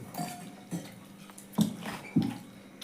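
A few light clinks and knocks of a plate and cutlery shifted on a table at a Ramadan iftar meal, soft and close, in separate taps with quiet gaps.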